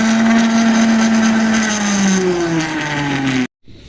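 A kitchen blender crushing marinade ingredients for chicken runs loud and steady with a high whirring motor tone that dips slightly in pitch, then cuts off abruptly near the end.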